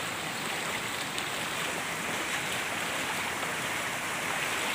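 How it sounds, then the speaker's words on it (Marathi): Floodwater rushing strongly across a road during heavy rain in Sindhudurg, a loud, unbroken broadband roar of flowing water, steady throughout with no voices. "पाण्याचा प्रवाह भरपूर जोरात आहे"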